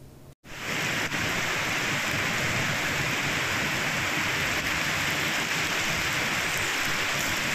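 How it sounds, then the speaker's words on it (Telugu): Heavy rain pours in Telangana during a storm with gusty winds, thunder and lightning: a loud, steady, dense hiss of downpour that runs unbroken after a brief opening dip, with no voices. "ఈదురుగాలులు, ఉరుములు, మెరుపులతో భారీ వర్షం పడింది"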